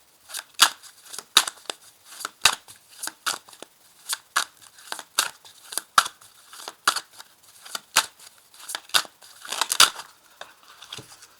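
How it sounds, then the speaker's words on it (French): Tarot cards being shuffled, drawn and laid down, heard as a steady series of crisp papery snaps and flicks close by, with no voices. "On va ajouter une carte."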